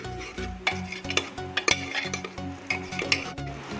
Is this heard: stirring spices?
yes